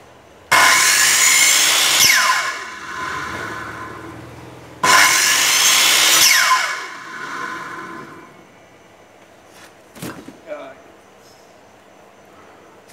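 A battery-powered household power saw makes two loud, close cutting bursts of about two to four seconds each, with some quieter handling noises and a few clicks afterward.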